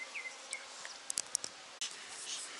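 Bees buzzing around a queen cell in a hive, a faint, continuous insect hum with a few brief higher whines and light knocks close by.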